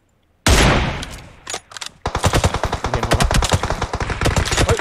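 Bursts of rapid automatic gunfire in PUBG Mobile, loud and close, with a brief pause before sustained rattling volleys continue to the end; game-style weapon fire, no talking.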